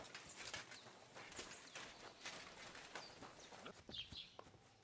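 A horse in the medieval game Kingdom Come Deliverance II clip-clops toward the listener, its hooves striking in a quick, irregular rhythm, fairly near and clear over a faint outdoor bed with occasional birdsong.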